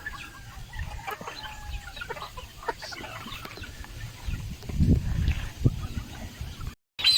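Several chickens cluck and murmur close by, with soft scattered calls and occasional louder squawks among rustling.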